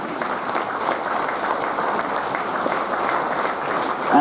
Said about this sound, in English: Let's keep the applause going for Balarisha Thermiang.